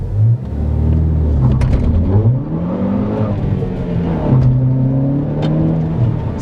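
Ford Focus Electric under load, its motor whirring and rumbling with pitch rising and falling as it revs, with a rough, bumpy vibration from the motor knocking against its mount, steady and fairly loud with no voices.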